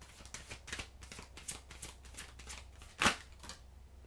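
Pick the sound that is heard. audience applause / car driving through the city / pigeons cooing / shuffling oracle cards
shuffling oracle cards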